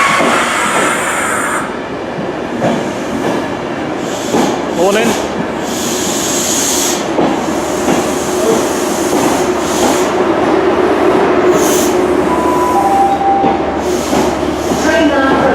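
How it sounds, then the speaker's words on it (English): A Transport for Wales train to Cardiff Central rumbles loudly into a station, wheels squealing and clattering over the rails, with a short spoken platform announcement and a tonal chime near the end. "Train now approaching platform 70 is an Hereford Transport for Wales service to Cardiff Central"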